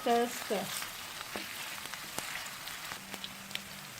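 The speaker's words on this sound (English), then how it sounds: "to this I'm going to be adding cardamom, bay leaf and cinnamon. And we just stir." Whole cardamom, bay leaf and cinnamon fry in hot oil for a Malabar chicken biryani, a faint, steady sizzle with light scattered ticks of stirring after a short tonal sound at the start.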